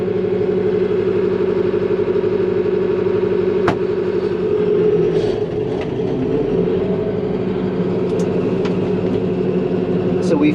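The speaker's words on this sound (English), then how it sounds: "This is how you engage the PTO on the tractor." A tractor engine runs steadily with the PTO engaged, spinning a rear-mounted cutter, a continuous mid-pitched drone with a few faint clicks and knocks on top, close by.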